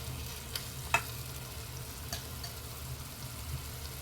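Angara chicken cooking in oil over a medium flame under a lid: a quiet, steady low sizzle with a low hum, broken by a few faint pops and clicks.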